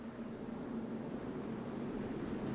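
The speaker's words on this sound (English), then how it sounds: "Jet dryers coming back out." Jet dryers running on the track at the 2012 STP 400 NASCAR Sprint Cup race at Kansas, a steady broadband turbine roar with a low hum that stays constant throughout, distant and continuous with no talk.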